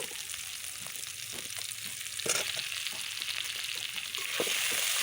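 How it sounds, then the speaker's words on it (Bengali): A spice paste of onion, chilli, stone-ground ginger-garlic and cumin fries with tomato pieces, giving a close, continuous sizzling hiss with crackles as it is stirred in the pan. "এভাবে মশলাটা আমি ভালোভাবে কষিয়ে নেব"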